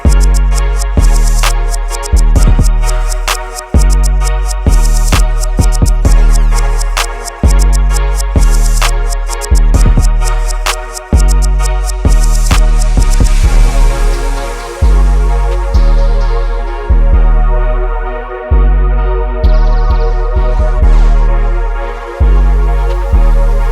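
Electronic beat remaking a song, with effects and added sections: loud, punchy kick-driven groove with repeating rhythmic pattern, sharp percussive hits and sustained synth tones, filtered toward the end.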